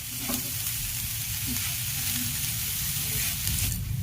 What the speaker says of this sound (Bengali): নারকেলটাকে আমি হালকা একটু ভেজে নিচ্ছি।